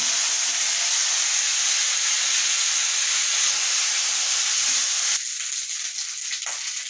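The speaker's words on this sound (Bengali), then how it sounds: "আদা জিরে বাটাটা ভাজা ভাজা হবে" Ginger and cumin paste fries in a pan, a loud, bright, continuous sizzle held close, which drops abruptly to a quieter crackle near the end.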